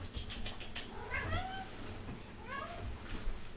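A pet cat meows repeatedly indoors, its rising and falling calls close and clear, with a brief low voice murmuring underneath.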